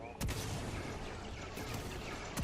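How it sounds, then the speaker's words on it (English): A turret gadget in Fortnite Save the World fires a sustained, dense burst of booming gunshots, loud and close, with sharper blasts at the start and end. "Let's go ahead and throw up another turret."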